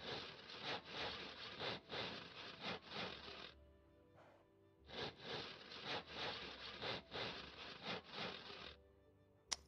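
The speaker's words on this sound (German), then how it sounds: "Endlich mal ein bisschen sägen." Boards are hand-sawn from wood in the game Life is Feudal, with rhythmic back-and-forth rasping strokes in two bursts separated by a short pause, ending with a sharp click.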